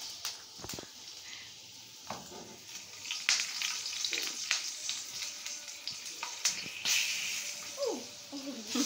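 Garlic cloves and green chili shallow-frying in oil for keema, a steady broadband sizzle with occasional sharp crackles and scraping stirs, close and moderately loud throughout.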